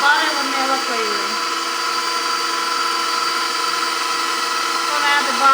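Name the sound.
electric mixer mixing marshmallow cookie mixture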